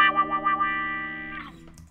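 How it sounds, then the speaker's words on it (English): Electric guitar run through a wah pedal, a sustained distorted note with a wavering, sweeping tone that wobbles early and then holds and fades, heard alone and close. "There's a whole array of sounds you can get out of the wah pedal."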